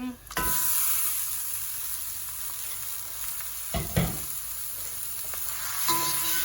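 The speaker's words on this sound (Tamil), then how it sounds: "இனி இதில் இறைச்சி போடுவோம் பாருங்க இறைச்சி நல்லா ஊறி இருக்குது இதை அப்படியே இதுக்குள்ள போடுறேன்" Marinated mutton drops into a pan of hot spice powder for a Jaffna-style curry and bursts into a loud, steady sizzle, with a few clanks and stirs partway through.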